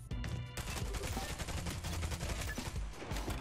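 Rapid automatic gunfire in the shooter game Spectre Divide, a dense continuous fusillade of sharp shots running the whole time, fairly quiet overall with little else audible.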